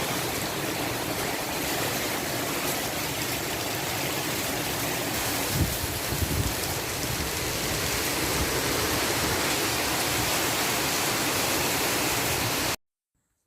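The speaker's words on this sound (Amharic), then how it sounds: "እስኪ ደግሞ ዝናቡን ስሙት እናንተ።" Steady rain pours down in a war-affected area, a dense, continuous hiss of falling water that stays loud and even for about thirteen seconds before cutting off abruptly, with no voices over it.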